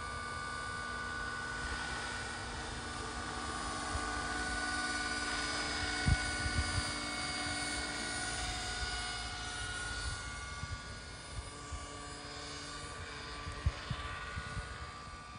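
A radio-controlled scale model Hughes 269/300 helicopter flying, its steady rotor hum and whine filling the air continuously, moderately loud with a few brief clicks, no voices.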